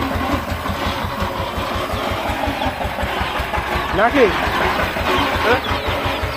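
A power tiller engine runs close by during paddy threshing, chugging in a steady low rhythmic pulse while people talk over it.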